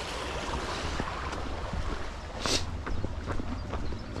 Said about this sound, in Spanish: Los riachuelos estos. Agua súper fresquita.